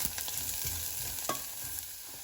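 Onions and garlic frying in a pan give a steady, close sizzle, with a few soft stirring scrapes on top and no talking.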